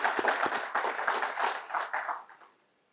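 Crowd at a Toastmasters meeting giving a round of applause, a few seconds of lively, uneven clapping from a small room that fades away at the end.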